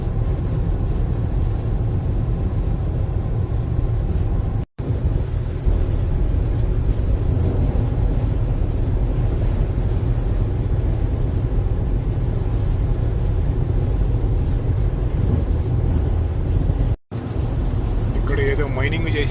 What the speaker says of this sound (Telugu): చూడు, ట్రక్కులు వస్తానే ఉన్నాయి.